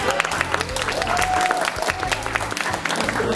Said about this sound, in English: So I think we should give you guys a big round of applause.